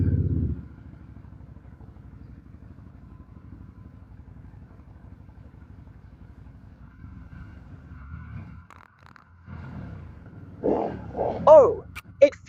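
A VOGE CU625 motorcycle engine fires up from neutral and settles into a steady, loud, low idle rumble that runs for several seconds, then cuts off and is followed by some clunks and handling noises.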